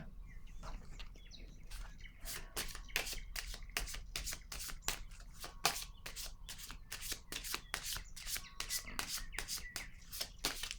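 Tarot cards handled and laid down one after another, a fast run of crisp papery slaps and flicks repeating steadily and close, with faint birdsong behind.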